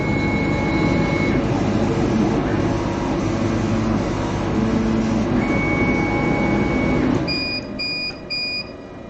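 A CO2 laser cutter's head travels across the bed to set absolute coordinates, giving a steady close whirring hum with faint electronic tones and a few short beeps near the end.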